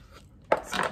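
A knife cuts a piece of marbled pork for char siu in half, ending in a single sharp clunk on the board followed by a brief scraping rustle.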